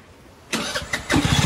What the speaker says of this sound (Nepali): यो खटारा स्कुटर स्टार्ट कहिले हुने भएन